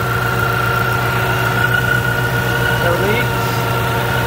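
A 2014 Mustang GT V8 idles steadily under the hood after an alternator install, a close, even mechanical hum with a faint whine, while someone speaks briefly over it.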